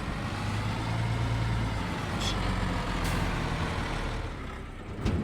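An empty farm truck is moved across a field, its engine rumbling steadily and close throughout, with a brief hiss of air brakes partway through and no talking.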